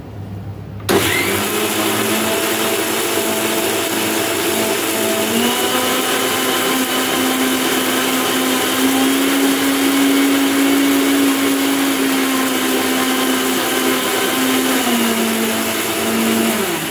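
An electric mixer grinder whirs loudly and steadily as it blends a mustard and poppy seed paste, starting abruptly and running continuously with a slight shift in pitch midway.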